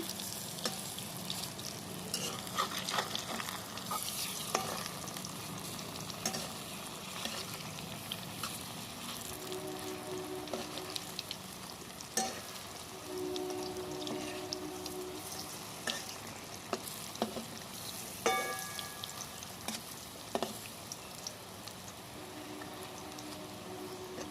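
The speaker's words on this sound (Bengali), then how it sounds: "দেখুন লাল করে আমার ভাজা হয়ে গেছে" Green banana (kachkola) slices fry in hot oil with a steady, soft sizzle and crackle that runs throughout, with occasional light clinks as the pieces are turned one by one, and no talking.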